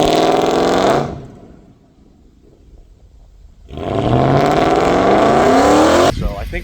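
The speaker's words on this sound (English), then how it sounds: "I tried to do a burnout in this thing" Mercedes E63 AMG doing a burnout, a loud, close engine roar that drops away briefly and then surges back hard with rising revs and tire noise.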